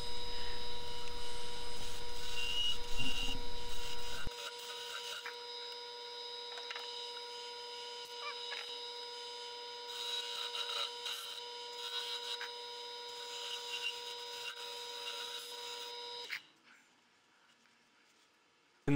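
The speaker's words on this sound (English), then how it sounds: "Here I'm using my skew gouge or my skew chisel to produce that round edge." A skew chisel rounds the edge of a wooden bottle opener handle spinning on a lathe. A steady scraping whir rides over a motor hum, loudest for the first few seconds, softer through the middle, then falling away near the end.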